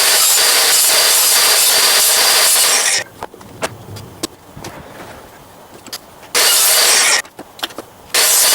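A table saw with a crosscut sled cuts wood for a patio table, a loud steady blade whir for about three seconds, then quieter knocks and clicks, before a second short burst of cutting near the end.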